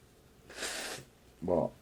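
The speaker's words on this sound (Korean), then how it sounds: "이 휴지로 코를 풀으라는 거예요." A nose being blown into a tissue, a single broad breathy blast lasting about half a second, followed by a short snorting voiced burst, close and moderately loud in a quiet room.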